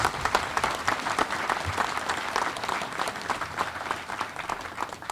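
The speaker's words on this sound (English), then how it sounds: "Let's please give our Gold Star mothers a great hand of applause." Steady applause from an audience honoring Gold Star mothers at a 2015 Vietnam Veterans Day ceremony, dense clapping sustained throughout without fading.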